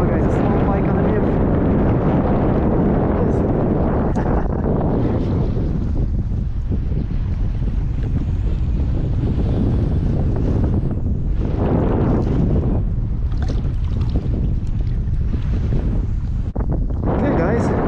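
Strong wind roars steadily across the microphone at a river mouth on a blustery fishing outing, a loud continuous rumbling buffet that swells and eases in gusts throughout.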